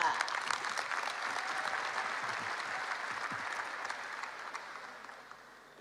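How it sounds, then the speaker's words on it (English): An audience at a youth address event gives sustained applause as a guest walks onto the stage, a fairly soft, even wash of clapping from a sizable crowd that slowly thins out. "Let's give him a warm round of applause as he comes out here on stage, Ishmael Bear."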